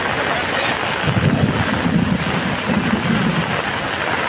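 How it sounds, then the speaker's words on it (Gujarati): The flooded Sukhi River at Thadgam flows bank to bank during rain, its steady, heavy rushing water roaring without pause, mixed with wind buffeting the microphone; loud and constant. "હાલ નદી બે કાંઠે વહી રહી છે"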